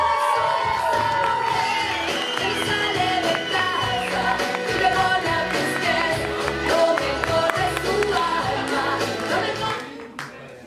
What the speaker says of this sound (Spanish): quiero que recibamos con un fuerte aplauso a la única y a la inigualable Bélica Rubik